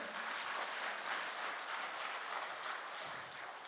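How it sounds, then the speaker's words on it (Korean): A congregation in a Korean church applauds together, a steady, even rush of clapping from many hands that holds for nearly four seconds at moderate volume. "우리 하나님께 영광의 박수 올려드립니다"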